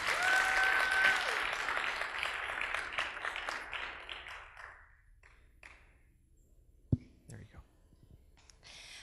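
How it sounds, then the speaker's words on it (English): Warm applause from a ministry audience greeting a speaker, a crowd clapping fairly quietly that fades out over the first five seconds, followed by near silence broken by a few faint taps and a single sharp click. "please give Brittany a warm applause from Panama"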